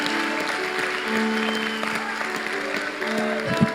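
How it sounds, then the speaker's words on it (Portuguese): A church congregation claps during a worship service, a moderate, steady patter under sustained tones and a faint, low-lying background hum. "Aplaude a Deus pela sua vida"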